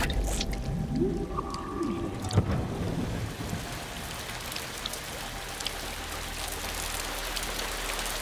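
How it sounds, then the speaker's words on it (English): Heavy nighttime downpour in a documentary about small animals: a steady, dense wash of falling rain with a low rumble underneath and a few faint tonal sounds early on, with no talking. "When the rain arrives, a year's worth can fall in a single night."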